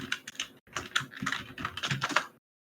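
Close computer keyboard typing while entering a node name in Unreal Engine 5: two bursts of rapid, crisp key clicks split by a brief pause, then silence, with no voice.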